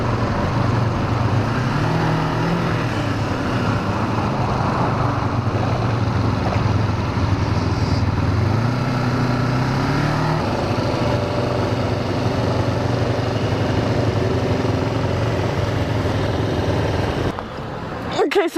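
A Kawasaki Ninja 500R motorcycle engine drones steadily while riding, with a continuous low hum and wind rumble whose pitch shifts slightly, then cuts off abruptly near the end.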